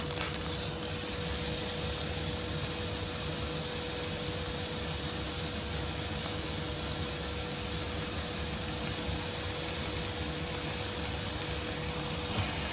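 A rump steak sears in a hot pan before going into an air fryer, giving a steady, dense sizzle that holds evenly throughout, close and moderately loud, with no talking.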